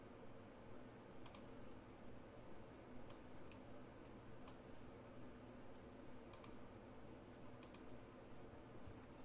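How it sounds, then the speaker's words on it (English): Computer keyboard typing for a Google search: sparse, separated key clicks arriving in small bursts over a steady background hiss, fairly faint and close, with no voices. "when I start typing Wade Boggs on Google"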